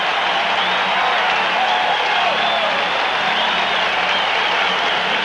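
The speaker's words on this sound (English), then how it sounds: "the Kansas City Chief defense has this crowd fired up" Stadium crowd at a 1984 Kansas City Chiefs home game against the Los Angeles Raiders roaring steadily, a loud, sustained wall of cheering with whistles and shouts and no letup.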